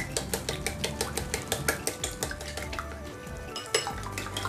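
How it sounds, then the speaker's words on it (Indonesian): Eggs seasoned with a little salt being beaten loose in a bowl, a utensil clicking against the sides in a quick, steady rhythm of close, crisp taps. "Kemudian kita kocok lepas ya."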